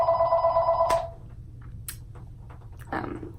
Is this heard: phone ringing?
yes